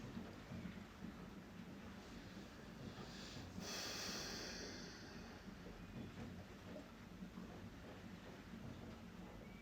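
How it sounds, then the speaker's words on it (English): Rain and thunder recorded as a soundtrack closing a guided meditation, with a steady wash of rainfall throughout and a low rumble of thunder swelling briefly near the middle, no talking. "That rain was nice."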